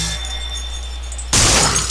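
Glass shatters loudly in the survival horror game Clock Tower 3, a sudden bright crash that bursts in after a low, steady hum of game ambience and rings briefly.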